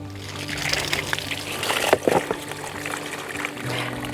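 Water splashes and trickles onto garden plants while they are watered in a summer vegetable garden, an uneven running pour with a few louder gushes near the middle and a faint low hum behind it.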